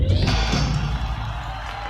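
A dense, roaring concert crowd cheers and applauds, a loud sustained wash of voices and clapping filling the whole stretch with no break.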